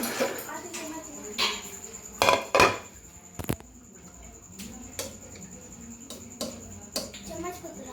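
Plates and cutlery clink and clatter in a home kitchen as rice is served, the sharp knocks and scrapes coming at irregular intervals over a low room hum.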